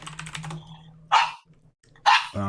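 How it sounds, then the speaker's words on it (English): A dog barks in an online Counter-Strike session, two sharp loud barks about a second apart, preceded by quick rhythmic tapping like keyboard typing and a low hum. "Is this your dog?"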